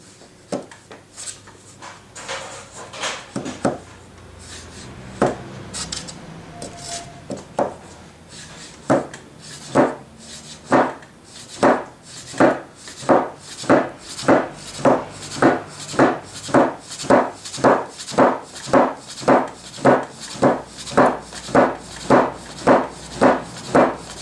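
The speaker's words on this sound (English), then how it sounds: "Check the thickness and slice the soba" Kitchen knife chopping through folded soba noodle dough on a wooden board, a steady run of crisp, evenly spaced knocks that settles into a quick regular rhythm, close and clear with light handling noise at the start.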